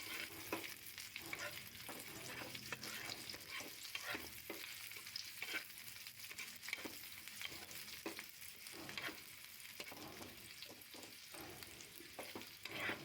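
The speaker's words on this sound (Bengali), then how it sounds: "পেঁয়াজটা তেলে ভেজে নেব, একটু লাল লাল করে ভেজে নেব।" Chopped onions frying in oil after a tempering of nigella seeds, a quiet, continuous sizzle broken by regular scraping stirs of a spatula, close and without talk.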